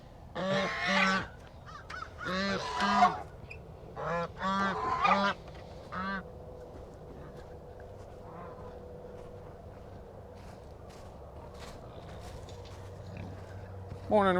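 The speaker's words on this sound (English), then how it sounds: "These geese talk too much, you know that?" Geese honk in loud clustered bursts in the first six seconds on a cold morning, then fall quiet over a low background hum before one more call at the end.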